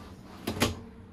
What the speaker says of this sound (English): You got some soft closed drawers here.